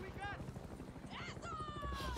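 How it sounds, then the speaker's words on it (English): A helicopter's rotor thumps rapidly in the background beneath busy Far Cry 6 game sounds, with voices talking over it. "There's a helicopter."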